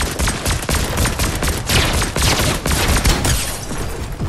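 Light machine gun fire in the Fortnite video game, rapid sustained bursts of automatic shots, loud and dense, with many overlapping reports throughout.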